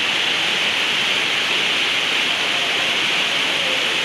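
Intense hailstorm with thunder and lightning hammering the Palatorrino indoor futsal arena in Rome, a loud, unbroken hiss of hailstones with no letup and no voices.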